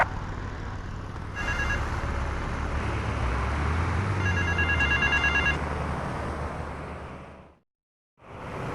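A payphone rings in the video game GTA Vice City, set in Little Havana: a repeating electronic bell in short bursts over steady traffic and street noise, with a brief total dropout near the end.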